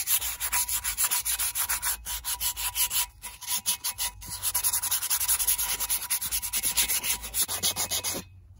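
Rust is scrubbed off steel Crown Vic police rims in quick, loud, close back-and-forth rasping strokes, a dense rhythmic scouring broken by a few short pauses.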